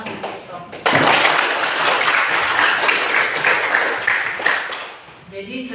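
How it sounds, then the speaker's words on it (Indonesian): Classroom applause from students in an Indonesian school lesson, a burst of dense clapping that starts abruptly, holds steady for several seconds with a few louder claps, then tapers off as talk resumes. "Tepuk tangan untuk."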